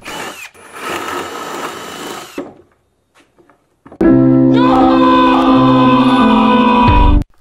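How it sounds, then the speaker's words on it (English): Loud power drill boring holes in a metal base in two bursts, a rough grinding run followed by a pause and then a steadier, higher-pitched drilling that stops abruptly. "I drilled 4 holes, but I'll only ever be using 2 bolts."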